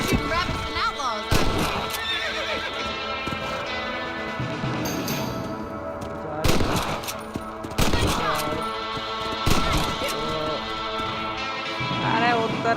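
A horse neighs and whinnies repeatedly in Red Dead Redemption, over galloping hoofbeats, bursts of gunfire and music, with the whinnies recurring every couple of seconds.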